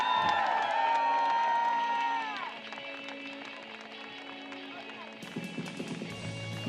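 A crowd at a rowing beach sprint event cheers and applauds the medalists, loud at first, then fading into lighter claps and a PA voice.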